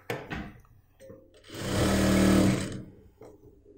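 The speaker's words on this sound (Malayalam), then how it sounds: "എന്നിട്ട് ഇതുപോലെ സ്റ്റിച്ച് ചെയ്ത് കൊണ്ടുവന്ന് നിർത്തണം." A domestic sewing machine stitches two layers of nighty cloth for a churidar, running in one steady whirring burst of about a second, framed by quiet handling sounds and brief pauses before and after.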